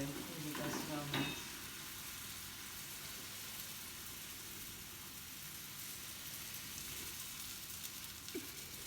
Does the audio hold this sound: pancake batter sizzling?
yes